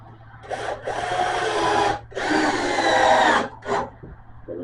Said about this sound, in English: A few of these 2-inch screws in it.